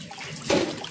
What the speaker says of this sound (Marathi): पाणी आलंय इकडे.